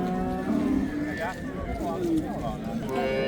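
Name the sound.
cow mooing at a livestock market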